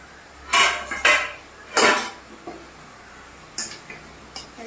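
A pot lid and pan clatter as a cook checks frying chicken. Several sharp metallic clanks come at irregular moments, followed by softer taps, with a low kitchen hum in between.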